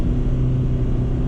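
A 2010 Honda Fit engine drones steadily under load climbing a hill, a constant, loud low rumble with no break or change in pitch.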